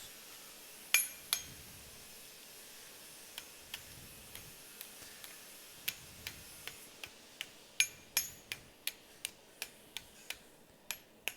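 An iron cone is hammered over a swage on an anvil, sharp metallic clinks ringing out one by one, sparse at first and then in a quicker steady rhythm, with no talking.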